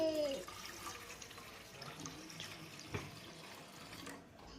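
Water runs and splashes into a metal idli steamer pot on a gas stove in a home kitchen, a steady close pouring wash with a brief louder splash midway.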